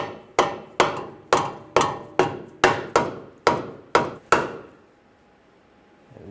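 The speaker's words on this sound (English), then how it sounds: "You can use a rubber mallet, just tap it in." A rubber mallet taps a car suspension knuckle into place on a 2013–2015 Chevrolet Malibu. Ten evenly spaced, close, dull blows land at a steady rhythm, then the clip goes quiet.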